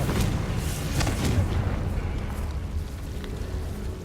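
Confringo blasting spell in Hogwarts Legacy: a rumbling, crackling explosion bursts at the start and slowly fades under game ambience, with no voices.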